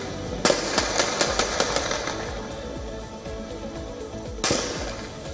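Gunfire in Khan Yunis in the Gaza Strip as armed men ride on aid trucks, a rapid burst of sharp cracks followed by a single loud shot a few seconds later over a rumbling background.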